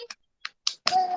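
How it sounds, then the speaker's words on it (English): A few sharp, separate hand claps from children in an online kindergarten class, sounding thin and close, as if picked up through a computer microphone, followed by a brief voice. "Children, clap hands for yourself. Clap hands loudly."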